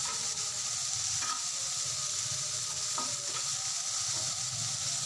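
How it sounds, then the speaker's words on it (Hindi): Chopped medium onion frying in oil for shakshuka, a steady close sizzle with a few light stirring scrapes, no speech. "इसको फ्राई करूँगी मैं इस ऑयल में।"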